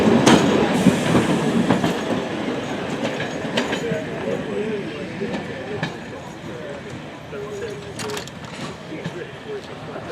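A heritage train at Tenterden Town Station rumbles steadily along the track, wheels clattering with occasional sharper clacks and squeals, loud and close throughout.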